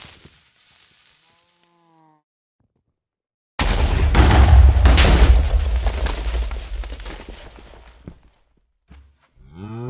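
A blocky explosion from a Minecraft realistic-physics mod bursts in loudly after near silence, a broad rumbling blast that rolls on with crackling debris and slowly fades over several seconds.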